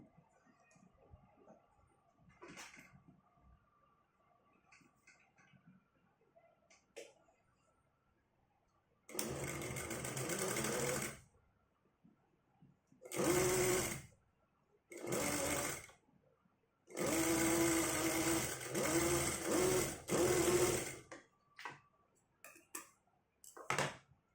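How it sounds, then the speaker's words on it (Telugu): An electric sewing machine runs in several bursts, double stitching a half-inch folded hem at the edge of the cloth, its steady rapid whir starting and stopping with quiet gaps between runs. "డబల్ కుట్టేస్తున్నానండి."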